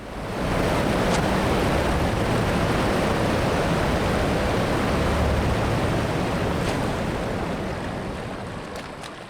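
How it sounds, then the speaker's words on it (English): Swimming toward a waterfall in the online game LOTRO gives a steady broad rush of water, like surf or a distant falls, that fills the whole stretch and fades slightly at the end, with no talking. "You really want me to swim all the way to the waterfall?"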